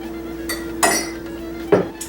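A teaspoon stirs sugar into a cup of warm water, clinking against the cup in a few distinct taps, close and clear over a quiet room, no one speaking.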